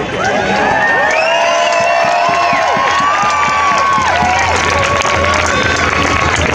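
Crowd at an outdoor protest on Parliament Hill in Ottawa, cheering and shouting loudly and continuously throughout, with scattered whoops, voices and a few claps close by.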